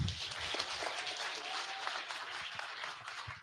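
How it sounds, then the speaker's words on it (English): Audience clapping at an evening gathering of Kenyans at a Baltimore hotel: a dense, steady wash of many hands applauding at moderate distance, sustained evenly throughout with no speech over it. "A better clap than that."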